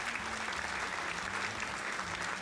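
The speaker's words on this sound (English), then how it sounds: "Clapping noises." Steady applause from many hands, a dense continuous clatter of clapping at moderate level with no pauses.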